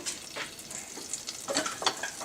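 A stick of butter melting in a saucepan over medium heat, stirred with a spoon, gives soft, close scraping and light sizzling crackles in short, uneven bursts.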